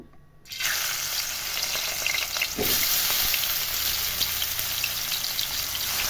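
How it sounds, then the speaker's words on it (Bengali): Hilsa fish heads fry in hot oil in a wok, giving a loud, steady, dense sizzle that flares up suddenly after a brief quiet start and holds without a break. "কড়াই তেলটা আমার গরম হয়ে গেছে প্রথমে আমি মাথাগুলো ভেজে নেব"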